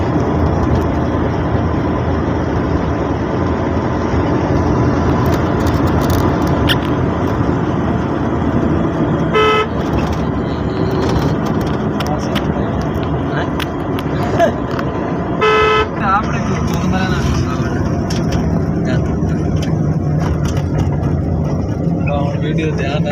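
A car travels along a road with steady engine and road rumble throughout, broken by two short horn blasts, while people talk over the drive.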